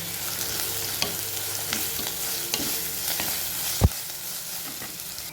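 Ginger garlic paste frying in a pan for mutton kulambu, a steady close sizzle broken by regular scraping stirs and one sharp knock of the spoon against the pan. No voices are heard.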